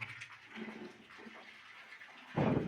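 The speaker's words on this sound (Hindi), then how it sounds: "मसाले में पानी डाल रहे हैं" Water is poured into cement plaster mortar during wall plastering at a building site: a faint, steady trickle, then a louder splashing gush near the end, with no talking.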